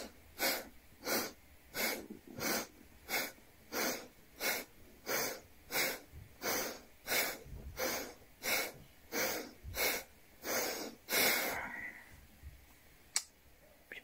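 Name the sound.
deep breathing exercise, inhaling and exhaling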